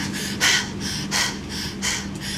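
Heavy, rhythmic panting breaths within a Hungarian pop song, three or four loud, close gasping exhalations over a low sustained musical tone, with no singing.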